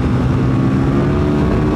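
A KTM 1290 Superduke motorcycle engine under riding, a steady loud droning roar with constant low rumble, close and uninterrupted.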